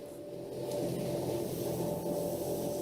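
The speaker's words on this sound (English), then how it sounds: "That's right, Sean, apologies about the noise, by the way. They're cleaning up the streets" A steady low mechanical rumble and hiss of a street cleaning machine working nearby, constant and moderately loud.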